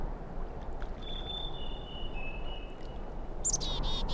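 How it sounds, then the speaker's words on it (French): A Merula Alba, a fictional bird in the video game Syberia II, calls with a thin, high whistling note that rises above a steady, noisy outdoor ambience, followed by a few brief chirps near the end. "Il semble y avoir beaucoup d'oiseaux dans les environs."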